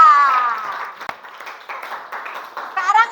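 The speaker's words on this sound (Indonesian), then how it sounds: "Tepuk tangan buat Mbak Kaila." Clapping in a classroom for a student named Kaila, a light patter of hands under a teacher's voice, with a sharp single clap near the middle and a brief burst at the end.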